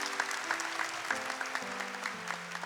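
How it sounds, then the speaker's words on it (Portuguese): A congregation claps together during a Catholic church service, a dense, steady wash of applause that fills the room from start to finish while organ or keyboard chords sound beneath it. "Pode aplaudir com fé."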